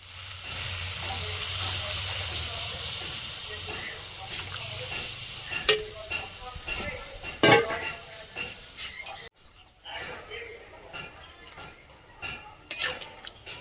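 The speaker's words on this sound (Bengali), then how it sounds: "ডালটা ঢেলে দেবো।" Dal cooked with fish head and onion seeds, poured into a hot pan, gives a strong steady sizzle that fades into stirring, utensil clinks and scrapes against the pan.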